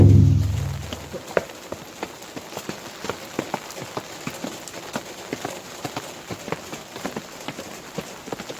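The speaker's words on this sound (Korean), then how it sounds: "지금 비가 계속 오는데" Steady outdoor rain falls in a residential street in Gangseo-gu, Seoul, with a continuous hiss and scattered sharp drips tapping near and rhythmically on surfaces.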